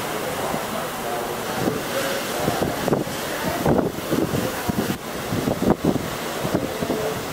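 Sea waves wash and splash against a sailing boat cruising past mountains on a deep blue sea in Greece, while strong wind buffets the microphone with loud gusty rumbles throughout.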